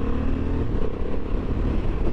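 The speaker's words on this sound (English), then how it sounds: "Right, we'll try the quick shifter." A 2023 Honda Hornet 750 motorcycle engine pulls hard and close up under riding, with its quick shifter shifting gears smoothly, the steady drone broken only by brief dips.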